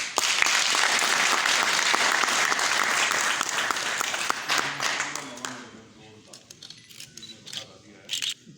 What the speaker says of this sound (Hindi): तालियां बरती हैं सर।